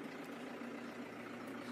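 A Massey Ferguson 5430 tractor engine idles in neutral, a faint, steady low rumble with no change in pace across the short stretch.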